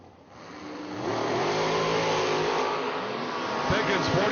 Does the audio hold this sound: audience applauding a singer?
no